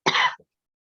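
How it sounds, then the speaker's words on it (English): A single short, loud cough close to the microphone, a breathy burst followed by a tiny trailing catch, then silence. "Sorry, I'm going to cough."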